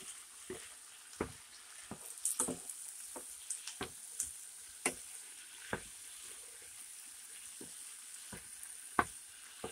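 Shrimp and vegetables sizzle quietly in a hot pan while a utensil scrapes and knocks against it in irregular, fairly close strokes.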